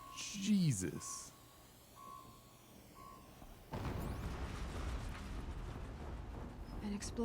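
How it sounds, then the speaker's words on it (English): A loud low explosion rumble erupts midway through Horizon Zero Dawn gameplay and carries on as sustained broadband roar, after quieter game sounds with tones and a brief whooshing effect. "An explosion."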